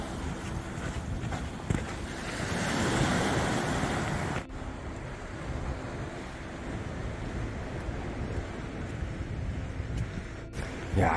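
Sea waves wash steadily onto the shore of a beach on Muuido island, with constant surf and gusts of wind buffeting the microphone.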